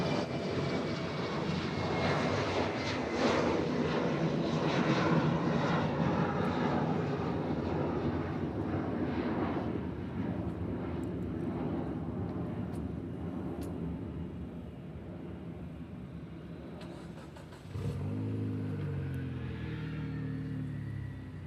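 Broad roaring jet engine noise from a Boeing 757 airliner arriving at Honolulu airport, passing overhead, loud and sustained, slowly fading with a low rumble shift near the end.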